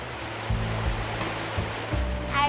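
A river flowing through woods in Massachusetts makes a steady, soft rushing of water with a few low thumps. No one speaks.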